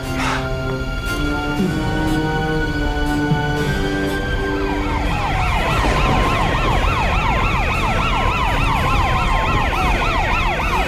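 A wailing police siren sweeps up and down repeatedly, loud and close, rising in over a steady hum of traffic or machinery.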